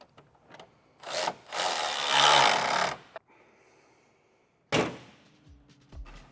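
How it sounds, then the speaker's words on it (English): A 10mm bolt is fastened on a Toyota 4Runner headlight during installation, giving two loud, close bursts of rasping, ratcheting tool noise separated by a quiet pause, with small clicks and handling sounds between them. "And then lastly, we'll replace this 10mm bolt."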